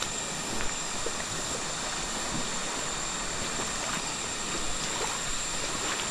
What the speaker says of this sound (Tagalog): natubok na rin namin ang malaking ilog